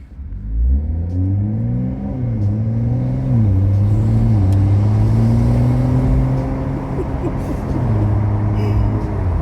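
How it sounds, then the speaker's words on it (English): A Toyota GR Supra A90 engine with an MST V2 aftermarket intake hums steadily while lightly accelerating, its pitch rising and dipping with a soft airy suction over continuous low rumble. "just that suction sound from just lightly accelerating"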